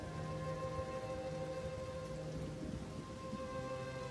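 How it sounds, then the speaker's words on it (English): Soft, steady rain in the background, alone and fairly faint, with a low constant hum and faint tonal music lines underneath. "sound of rain in the background and some nice orchestral music"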